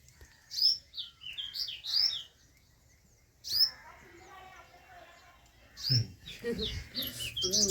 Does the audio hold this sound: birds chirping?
yes